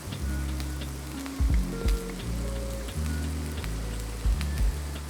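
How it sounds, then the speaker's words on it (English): Ground beef browning in a pan, a steady close sizzle and crackle of frying meat, with a few soft knocks of stirring, alone without talk. "I wanna get this beef browned."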